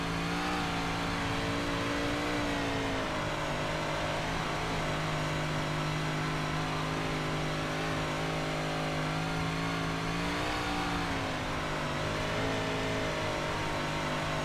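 A dirt 358 modified race car in iRacing roars at full throttle on the Volusia dirt oval, a loud continuous engine drone with steady harmonic pitch that dips and climbs again around corners, no voices.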